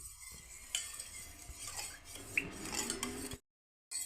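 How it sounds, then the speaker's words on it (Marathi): A spoon stirs buttermilk spice masala into a vessel of buttermilk, with close clinks of metal against the container and soft scraping swirls, a couple of brighter taps, then a brief drop to silence near the end. "मी 1 चम्मच मसाला घालते आणि व्यवस्थित असं मिक्स करून घ्यायचं आहे"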